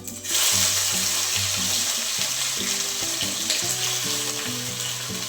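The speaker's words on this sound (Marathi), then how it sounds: "आपल्याला वांगे फ्राय करून घ्यायचे कमी गॅसवरती आपल्याला फ्राय करायचे" Eggplant pieces fry in oil in a pan over low heat, giving a steady, dense sizzle throughout with faint clinks and low kitchen hum underneath, close and continuous.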